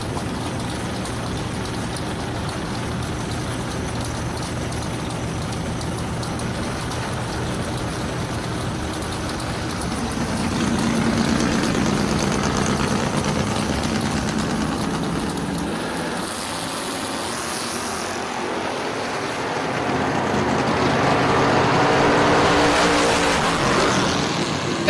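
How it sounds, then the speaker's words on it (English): Dragster race cars at a drag race, a sustained loud engine roar that swells twice as the cars run down the strip. "Man, oh man, that was a drag race."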